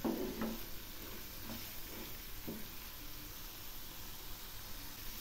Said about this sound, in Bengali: এই মশলাগুলো বেশ কিছুক্ষণ ধরে কষাবো। দেখুন, এগুলি থেকে একটু একটু তেল ছাড়ছে।